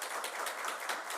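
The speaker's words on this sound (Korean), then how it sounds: "우리 큰 박수로 환영하도록 하겠습니다" A Sunday-service church congregation applauds to welcome visiting families, a short burst of steady, even clapping heard from a distance and fairly faint.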